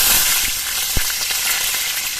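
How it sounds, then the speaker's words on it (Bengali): Slit green chillies with black cumin sizzling in hot mustard oil, a loud bright continuous crackle close by, with one brief knock partway through. "আর দুটো চেরা কাঁচা লঙ্কা ফোড়ন দিয়েছি"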